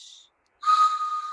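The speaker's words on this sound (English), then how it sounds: "He brought his train whistle" A hand-blown train whistle sounds once with a brief faint lead-in, then a loud sustained steady tone of about a second, close by and alone.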